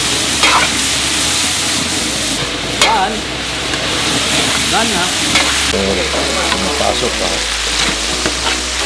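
Beef stir-fried in a hot pan, with a steady close sizzle and clattering scrapes of stirring that continue throughout, loud and unbroken.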